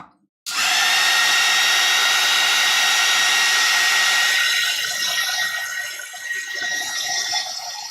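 A hair dryer blows on a wet watercolor painting, switching on abruptly into a loud, steady whirring rush that continues unbroken with slight variations in tone, close to the listener and with no voices.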